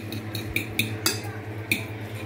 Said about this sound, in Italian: la ricotta, cominciamo a mescolare